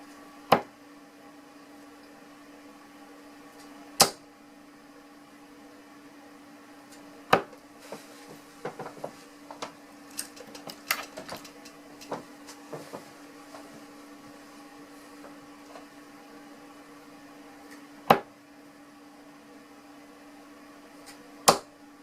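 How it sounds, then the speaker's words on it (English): Shot 9Ti2 24g darts strike a dartboard in a quiet room: sharp, isolated thuds spaced seconds apart over a faint steady hum, with a cluster of lighter clicks and rattles in the middle as the darts are handled. "I'm just going to have a few throws with the Shot 9 tie squared, using the setup just as it comes."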